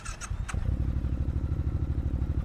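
A 2024 Triumph Speed Twin 1200 motorcycle engine rumbles loud and close with a steady, throbbing idle after a brief revving burst, with a few clicks at the start.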